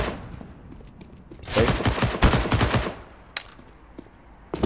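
Rapid burst of automatic gunfire in the shooter CS:GO, about a second and a half of dense loud shots, then a couple of isolated sharp cracks afterward.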